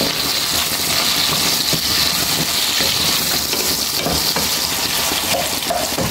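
Garlic and onion sautéing in a pan for adobong sitaw, giving a loud, dense, continuous sizzle with faint stirring ticks throughout.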